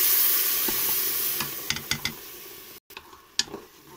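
Meat sizzles in a pan after milk is poured in, a steady hiss with scattered clicks from stirring and a brief drop into silence.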